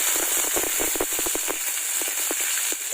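Onion and tomato hit hot oil for a prawn masala and sputter in a steady bright sizzle, with quick popping crackles scattered over the hiss, close and continuous.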